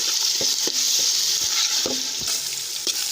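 Finely chopped tomatoes hit softened onions frying in a pan, giving a bright steady sizzle broken by several close stirring scrapes and knocks, with no voices.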